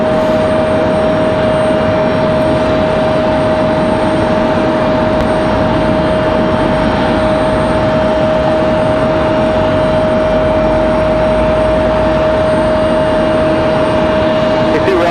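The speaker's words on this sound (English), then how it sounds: "This Frontier is Frontier 4609, headed off to Houston. A321 200 Neo." A Frontier Airbus A321neo jet departs Raleigh-Durham airport, its engines producing a steady, loud broadband roar that holds throughout, with a constant tone running through it and radio chatter faintly underneath.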